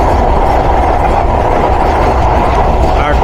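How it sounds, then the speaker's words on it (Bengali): Nakshi Kantha commuter train running on the Padma Link rail line between Dhaka and Mawa, heard from on board as a loud, continuous rolling roar of wheels on rails. "নকশিকাথা কমিউটারের স্পিড কিন্তু গেইন হচ্ছে পদ্মা লিঙ্ক প্রকল্পে।"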